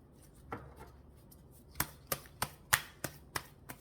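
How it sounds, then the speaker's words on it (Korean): Tarot cards being shuffled and drawn for an advice reading, sharp close card snaps and slaps in a loose, quickening rhythm after a quiet start, with no talking. "그래서 조언 카드 하나 뽑아드릴게요."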